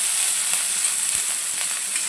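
Finely chopped onion fries in oil on a tava, browning for a mutton handi masala; a steady, close, dense sizzle runs throughout with faint stirring ticks and no voices.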